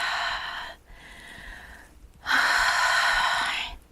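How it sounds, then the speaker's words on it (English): During a hip-opening yoga session, a person takes deep, audible breaths: a sharp inhale, a softer sustained breath, then a long, forceful exhale, close and clear with no speech. "next we're going to breathe in and exhale"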